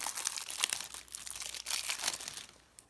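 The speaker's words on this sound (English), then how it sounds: "let's go ahead and flip through one of these villain decks" A trading card starter deck flipped through by hand, giving a steady, close run of dry papery crinkles and snaps with no talking.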